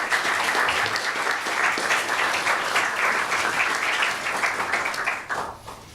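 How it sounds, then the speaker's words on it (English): An audience at a utility commission workshop applauds the panelists, dense sustained clapping from a roomful of people that holds steady and then fades out over the last second. "Let's give a round of applause for these panelists."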